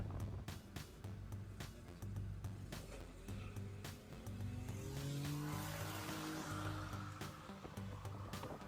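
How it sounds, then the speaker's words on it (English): A car engine roars steadily with rising tonal sweeps as tires squeal and grind through a burnout beside a trailer missing a wheel, loud and continuous throughout. "I have to admit that burnout is pretty cool."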